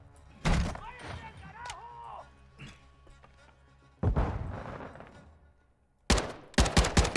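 Bursts of gunfire in a Call of Duty campaign: a sharp volley early, a heavier burst midway and rapid repeated shots at the end, with a voice between them.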